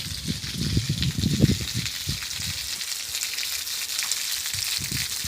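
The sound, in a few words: farmhouse motor pumping water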